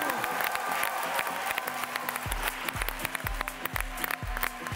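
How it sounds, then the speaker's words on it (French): An audience on The Voice Afrique Francophone claps steadily after a battle performance. The dense applause carries on under music whose pounding beat enters partway through. "Applaudissez-le, s'il vous plaît"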